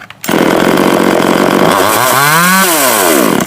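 A chainsaw engine catches and roars to life, idling roughly before revving up and down loudly at close range.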